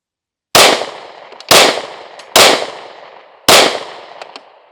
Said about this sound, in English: We're going to shoot the hostage target again.